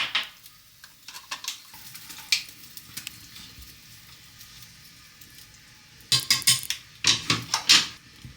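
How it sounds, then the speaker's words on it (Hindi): Cabbage goes into a soup of softened tomatoes and kimchi simmering in a pot. A low sizzle runs throughout, then loud bursts of clattering and stirring come near the end. "और सूप के जैसे 5-10 मिनट पकाने के बाद ओडिन इसमें अभी पत्ता गोभी डाल रहा है"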